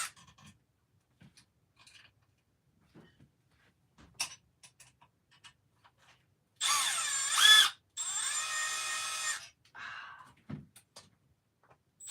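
A Milwaukee power drill whirs in two loud bursts of a few seconds each, with a rising-pitch whine, amid scattered clicks and handling noises.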